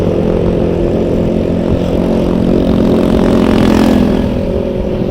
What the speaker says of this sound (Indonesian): Biar suaranya juga nggak terlalu ini keras knalpotnya.